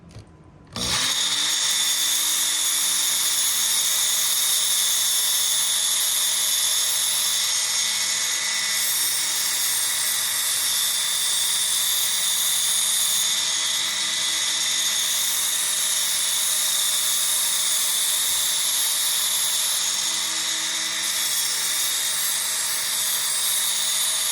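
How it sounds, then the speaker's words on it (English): An electric sandpaper knife sharpener whines loudly and steadily from a close position after it switches on, running alone at an even pitch with no talk. "you just turn it on and you just drag your knife through it"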